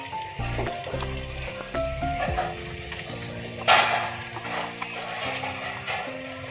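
Ginger, tomato and garlic paste with turmeric fries for a potato-and-young-goat mutton curry, a soft sizzle beneath clattering stirs and one sharp scrape in the middle.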